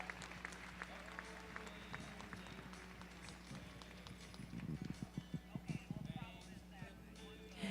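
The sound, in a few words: audience applause at horse cart show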